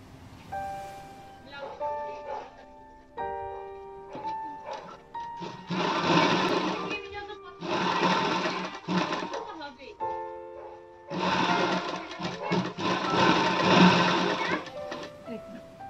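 Sewing machine stitching a princess-cut blouse, running in several loud bursts of rapid mechanical whirring separated by short pauses, with someone speaking between and over the stitching runs.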